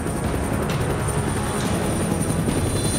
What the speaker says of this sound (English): They're grabbing onto our chopper.